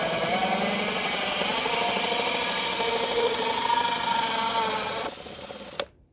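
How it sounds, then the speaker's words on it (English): A hole saw cuts through timber with a steady, droning mechanical whir and grinding tones that run for about five seconds, then drop away and stop with a sharp final knock. "And then just go through with the hole saw through the timber."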